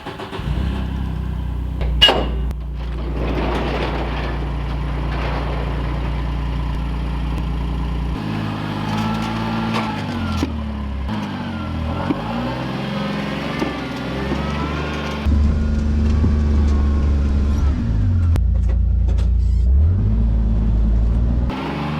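A side-by-side utility vehicle (a Mule) fitted with tracks drives along, its engine rumbling and revving steadily at mid pitch and growing louder toward the end, with no talk over it.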